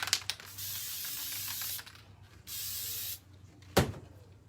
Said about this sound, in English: So a light spray,